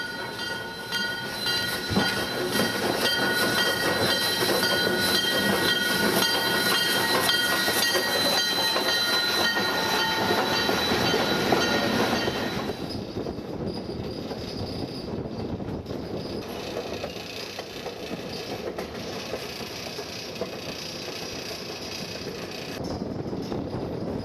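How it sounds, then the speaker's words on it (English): A train returning from Whitehorse passes near the Canadian border on the line to Skagway, Alaska, with a loud, continuous rumble, rattle and wheel squeal that drops to a quieter clatter about halfway through. "we meet a train returning from Whitehorse"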